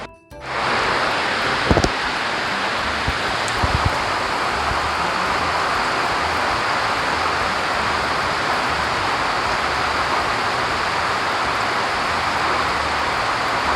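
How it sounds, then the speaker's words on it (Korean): A heavy tropical downpour in the Philippines roars steadily and unbroken, a dense wash of rain pounding down outside with no other sounds. "지금 밖에는 비가 어마어마하게 쏟아지고 있습니다"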